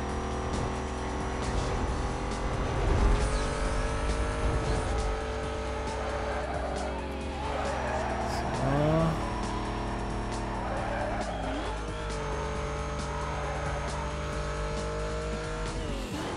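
Car engine in the video game Need for Speed Most Wanted, a sustained loud revving drone rising and shifting in pitch as it accelerates, with tire squeals and skids cutting in along the way.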